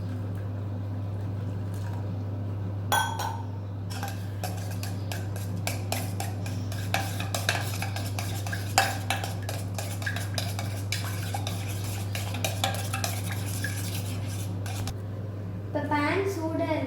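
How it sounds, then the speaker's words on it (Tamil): Hot milk is stirred into a beaten egg mixture in a bowl for a children's bread dish, with repeated clinks and scrapes of a utensil against the dish over a steady hum while a person talks. "இப்போ ஹாட்டான மில்க் இதில் ஊற்றி மிக்ஸ் பண்ணிக்கோங்க"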